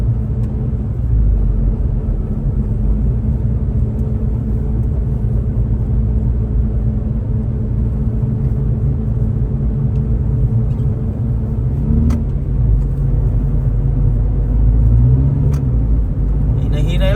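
An all-wheel-drive 4x4 car drives slowly over snow, a steady low engine rumble and road noise continuing throughout from inside the vehicle, with people speaking over it.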